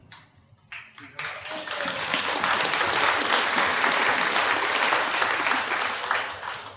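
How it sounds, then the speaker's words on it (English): An audience applauds at a 2004 Griffin Poetry Prize event, the clapping building quickly from a few scattered hands into sustained, dense applause that holds steady and then starts to thin toward the end. "I knew you'd clap for that."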